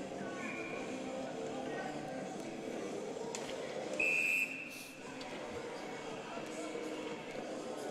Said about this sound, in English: And we get a whistle off the face-off